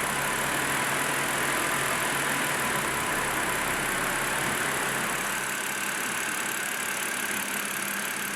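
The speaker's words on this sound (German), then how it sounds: "Zu empfehlen ist einmal Motor starten, die einzelnen Gänge durchschalten" A BMW 5 Series E61 engine, fitted with a ZF6HP26 automatic transmission, runs at a steady, loud idle with a constant hum throughout.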